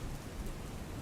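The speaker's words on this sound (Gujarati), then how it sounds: "સૌરાષ્ટ્ર સહિત મધ્ય ગુજરાતમાં વરસાદ વરસી રહ્યો છે." Rain falls steadily across Gujarat, a dense, continuous patter and hiss filling the whole moment with no voices over it.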